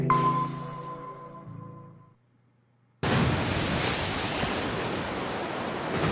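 Rushing flood water in the video game 999, as a wall of water bursts through a room. A loud, steady broadband roar starts abruptly after a short silence that follows fading game music.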